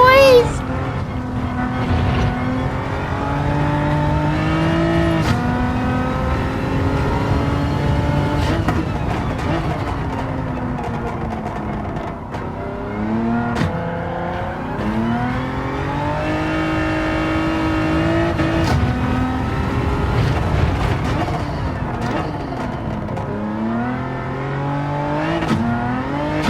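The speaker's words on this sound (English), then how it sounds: "The turbo noise!" A turbocharged Hyundai racing around Tsukuba in Gran Turismo 7, the engine revving up and down through repeated gear changes with rising and falling pitch, loud and continuous, a voice talking over parts of it.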